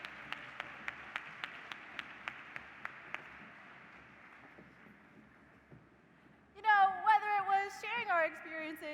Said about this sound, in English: Let's give one more round of applause to our retiring teachers as they exit the stage.